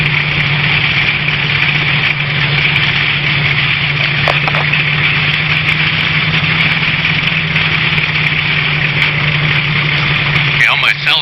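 Engine idling while warming up, a steady low rumble with a constant drone that holds evenly and loud throughout with no change in speed.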